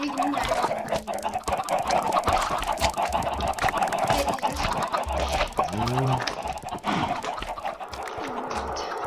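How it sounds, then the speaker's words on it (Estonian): Chickens in the Minecraft video game cluck repeatedly in short, clear bursts, with a busy background of game sounds and a voice talking now and then. "Siin on mingi kana koosolek või?"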